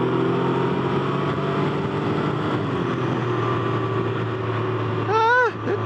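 A Can-Am Ryker three-wheeled motorcycle rides in eco mode with a steady engine drone throughout, building slowly, then a short rising whine near the end as it picks up speed.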